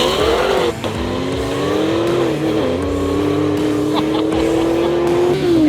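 A race car accelerates hard down a standing-mile strip, its engine note climbing steadily through the gears with brief dips at each shift, loud and close throughout.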